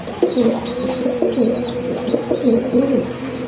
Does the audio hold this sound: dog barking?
no